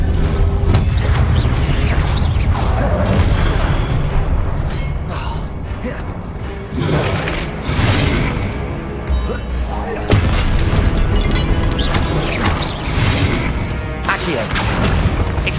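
Confringo blasting spells exploding in Hogwarts Legacy, loud repeated booms and crashes with debris clatter and rumbling, bursts arriving every couple of seconds amid busy combat sounds.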